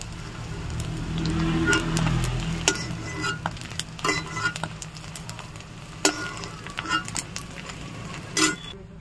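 Food frying in a pan, a soft sizzle that fades under clinks and scrapes of a utensil stirring and lifting the pieces, close by with no talking.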